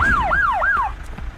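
An arriving ambulance wails with a rapid rising-and-falling siren, three quick sweeps, loud and close, in a Tagalog-dubbed movie, then fades into background noise.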